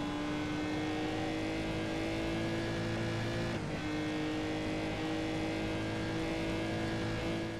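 A race car engine in the PC racing game GRiD holds a loud, steady high drone with a sustained tone, briefly dipping midway before resuming at constant revs, with no talking over it.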